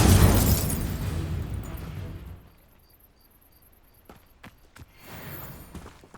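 An Incendio fire spell is cast in the game Hogwarts Legacy, a loud burst of roaring flame that rumbles and fades over two seconds, followed by quieter mechanical clicks and faint ambient rustling.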